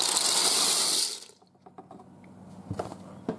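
Water pours into a pot holding a full box of pasta shells, a loud steady rush that stops abruptly, followed by faint drips and small clinks.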